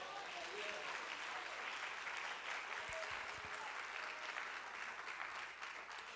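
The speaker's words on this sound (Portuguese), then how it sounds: "dê uma salva de palmas ao Senhor" Sustained applause from a church congregation, steady clapping throughout, heard from a distance and fairly faint.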